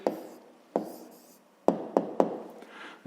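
Pen or chalk writing down a math answer: a few separate scratchy strokes and taps, spaced irregularly with quiet gaps between, close and fairly soft, with no talking.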